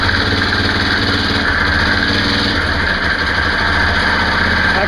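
Yamaha Kodiak ATV engine, leaking fuel and with a suspect clutch, running steadily after a restart, a loud, close, even idle rumble with constant vibration and no pauses.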